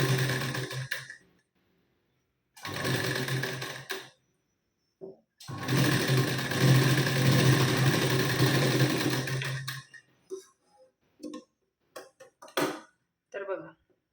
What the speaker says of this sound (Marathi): आता जशी शिलाई दिली त्यावरच पुन्हा आपण शिलाई देऊन घ्यायची.